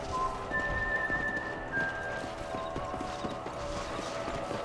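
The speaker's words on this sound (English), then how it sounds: "Eu vou montar no cavalo dela." Horse hooves clip-clop at a steady walking rhythm in the Red Dead Redemption game, with faint creaks and tack noises over a constant soundtrack bed.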